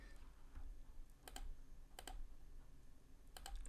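Quiet keyboard typing in small bursts of several quick key clicks, separated by short pauses, over a low background hum.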